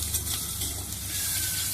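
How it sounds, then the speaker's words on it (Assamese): Onions lightly frying in a pan of oil and being stirred often: a soft, steady hiss of sizzling with faint scraping stirs, quiet and close, with no talking. "পিঁয়াজখিনি বেছিকৈ ভাজিবলৈ নিদিওঁ"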